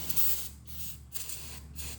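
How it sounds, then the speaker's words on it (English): Spraying out the crank area of a car engine: three or four hissing spray bursts in steady succession, each cut by a brief pause, fairly close and loud with no talk. "try to spray this out and then reach up in there"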